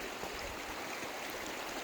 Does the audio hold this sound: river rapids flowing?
yes